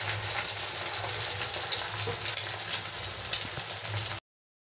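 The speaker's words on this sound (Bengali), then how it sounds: "ডিম ভাজা কিন্তু রেডি হয়ে গেছে" Eggs frying in a pan with whole garlic cloves, a close, continuous crackling sizzle with small pops, steady for about four seconds before cutting to silence, with no voices.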